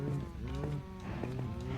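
Minecraft cows moo in a few close, drawn-out lowing calls that overlap one another, with no talk over them.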